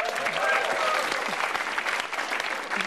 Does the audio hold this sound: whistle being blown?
no